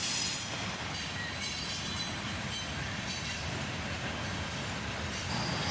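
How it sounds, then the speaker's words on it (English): A southbound CSX manifest freight train, led by ES40DC and ES44AC locomotives, rolls past in a steady loud roar of wheels and cars, with some wheel squeal throughout and no voices. "A southbound CSX manifest train, led by an ES40DC and an ES44"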